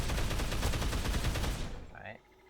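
Level 1 firearm in Dead Island firing a sustained rapid burst, dense loud shots hammering steadily for about two seconds before cutting off, with a brief faint tone afterward.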